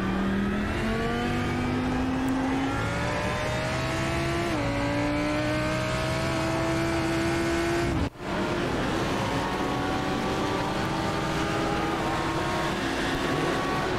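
GT3 race cars crossing the finish line at Silverstone in iRacing, a loud sustained engine whine rising in pitch through the gears with a brief cut at a shift, continuous and close.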